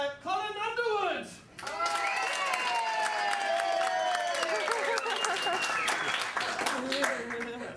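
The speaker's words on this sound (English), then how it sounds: "put your hands together for Mr. Colin Underwood" At a golden wedding anniversary party, guests clap and cheer for a performer, sustained applause running beneath an announcer's voice.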